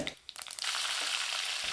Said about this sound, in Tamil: இது கருவேப்பிலையும் வரமிளகாய் பொறிஞ்சு வந்துருச்சுங்க